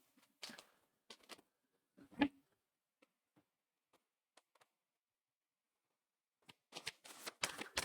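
Tarot cards being shuffled, with scattered soft riffles and taps, then a quiet gap before a denser flurry of shuffling close by.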